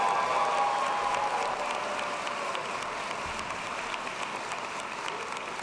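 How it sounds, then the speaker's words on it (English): Steady applause from a commencement ceremony audience, dense clapping that fades slightly but stays continuous, with no talking over it. "Now it's time to cheer for the accounting students who just came up."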